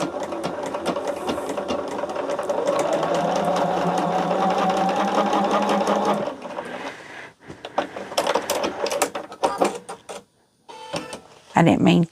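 A sewing machine stitches a quilt test block in a fast, steady whirring run for several seconds, then stops and starts in short bursts with clicks and handling noises, with a voice talking partway through.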